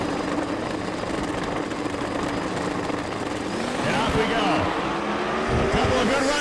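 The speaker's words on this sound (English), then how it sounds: "The drivers are Dwayne Mills and Jason Horde, first-gen Camaro versus first-gen Camaro" Two first-gen Camaros roar down the drag strip at Bradenton Motorsports Park, a loud sustained engine howl from the crowd side that swells and shifts pitch as the cars pass, with a voice talking over it.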